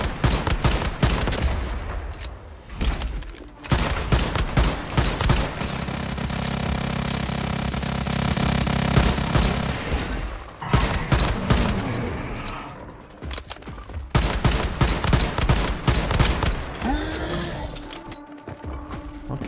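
Gunfire aimed at a boss in the survival shooter Once Human, with long loud bursts of rapid automatic shots broken by brief pauses and a sustained mechanical roar in the middle, close and dominant throughout.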